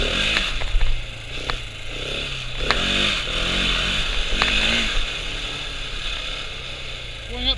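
Suzuki DR200 dual-sport motorcycle popping a wheelie with its small single-cylinder engine revving in a steady, wavering drone, close by under wind noise, with clattery chain and mechanical rattles and no talking.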